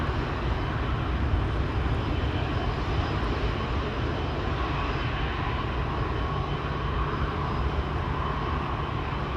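A Corendon airliner in special livery at Schiphol produces a constant, full-bodied engine roar, steady and fairly loud for the whole stretch, with no talking.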